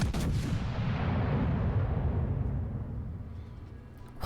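Battleship main guns fire in the naval video game World of Warships, a heavy booming blast that rolls into a long, decaying rumble, with a fresh sharp report starting at the very end.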